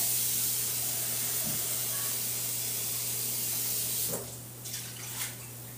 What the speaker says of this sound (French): Les oignons sont en train de sauter derrière.